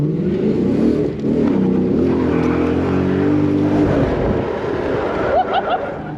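A drift car revs hard and accelerates through a practice lap at a drift event in Atlanta, its loud engine note rising and falling in close, sustained bursts, with faint voices in the background.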